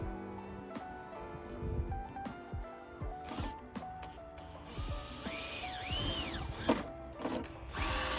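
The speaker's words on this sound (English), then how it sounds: "I used another lock motor as a guide to drill the bottom hole" A power drill bores holes in a wooden car door panel to mount a lock motor, sounding in repeated short bursts with a whining motor that rises and falls in pitch and occasional knocks.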